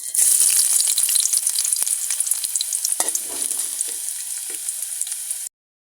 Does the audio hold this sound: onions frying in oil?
yes